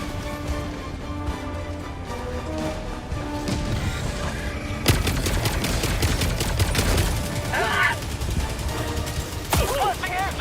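Gunfire in an online shooter game, with sustained rapid bursts and sharp cracks layered over a busy battlefield mix, loud and close, while voices talk over the shooting.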